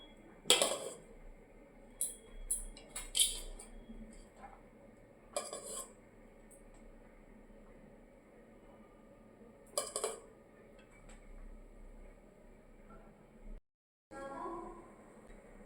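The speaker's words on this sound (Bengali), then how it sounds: "এই তো খাবার বাড়ছি, দেখো" Plates and cutlery clink sporadically as rice and cooked vegetables are served in a Bengali home kitchen. There are a few sharp, close chinks and scrapes with quieter gaps between them.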